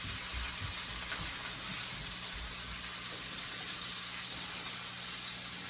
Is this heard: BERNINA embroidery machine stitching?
no